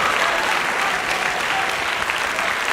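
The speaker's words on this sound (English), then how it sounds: "Give Tyler Sawilczyk, 7th grade Palos South, give him a big round of applause for being our Godzilla." A large audience at a spring school band concert claps loudly and continuously, a thick steady wash of applause throughout.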